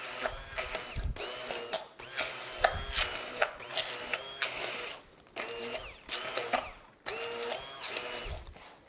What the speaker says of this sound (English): because it is getting thick, I am going to use my mixer